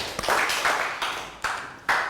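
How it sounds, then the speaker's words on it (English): A Year 3 class claps during a science lesson, producing a few loud, close bursts of clapping in quick clusters with brief pauses between them. "Round of applause"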